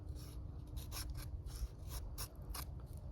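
Gerber Strongarm tactical survival knife shaving wood into feather sticks outdoors, giving repeated short rasping scrapes in a steady rhythm, close and moderately loud over a low background rumble.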